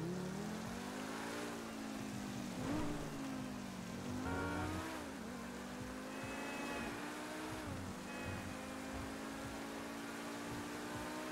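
Sports car engine in GTA 5 Online, a continuous loud drone with rising and falling revs as the car accelerates and shifts, steady throughout with no talking.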